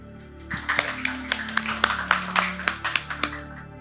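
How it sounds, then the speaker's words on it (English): Applause from a panel-discussion audience at a startup event: a sparse scatter of individual hand claps starting after a brief quiet moment, irregular and moderately near, with a faint low hum beneath and no talking. "Please, guys, be more generous with the applause"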